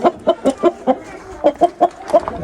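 A rooster clucks close by in a quick series of about ten short, sharp calls in an uneven rhythm, loud and alone with no talk.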